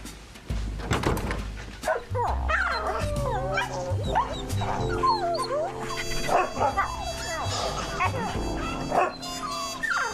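A dog barks and yips in quick bursts, with whimpering and howl-like whines in between, loud and close.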